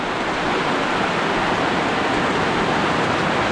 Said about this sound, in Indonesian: Kita guyur pakai air.